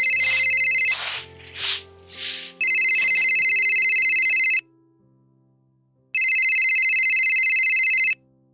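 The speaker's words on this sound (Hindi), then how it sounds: "बाबू का फोन" An electronic phone ringtone plays in bright repeating bursts, stops for a pause, then rings again, loud and close with no talking.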